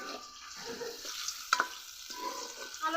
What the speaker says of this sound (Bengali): কড়াইয়ে তেল দিব, তেল গরম হয়ে গেছে, আলু দিয়ে দিব।